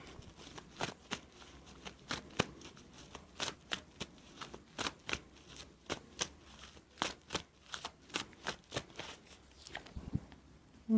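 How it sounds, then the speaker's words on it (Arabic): Tarot cards being shuffled, a steady series of quick soft riffling flicks and slaps, close and fairly quiet, with no talk. "هنسحب تاني كروت برضو نشوف الدنيا."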